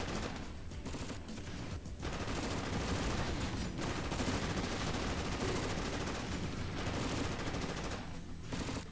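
A mercenary fires her weapon in the video game Crysis, producing dense, sustained gunfire that rattles on loudly through most of the stretch, with only brief lulls.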